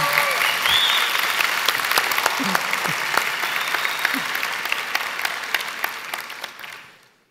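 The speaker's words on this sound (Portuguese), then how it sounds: "Você pode aplaudir Jesus então?" Church congregation applauding during a sermon, dense continuous clapping with scattered cheers and voices that gradually thins and fades out at the end.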